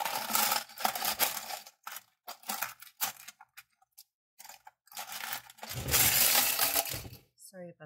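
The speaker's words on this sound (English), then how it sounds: "sorry about the noise. I was trying to get my small clips." Small metal clips rattle and clink during rummaging, with bursts of jangling, scraping and clattering separated by short pauses, close by.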